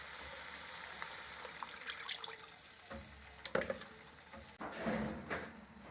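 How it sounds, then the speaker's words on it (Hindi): A little water goes into a pan of sizzling Gobi Manchurian masala with green chillies and black pepper, making a brief hiss and bubbling under a steady frying crackle. "अब इसमें पानी डालेंगे थोड़ा सा।"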